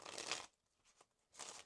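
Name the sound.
shuffling a deck of cards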